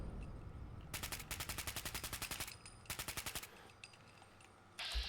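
Rapid bursts of automatic gunfire from a swarm of gunners in the video game Fallout 4, several rattling volleys in quick succession with short pauses between them, loud and close, followed by a sharp blast at the end.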